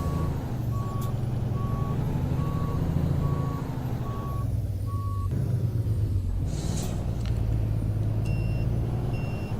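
A truck idles with a steady diesel rumble in American Truck Simulator while evenly spaced reversing beeps repeat, followed by a short air hiss and a couple of higher tones near the end.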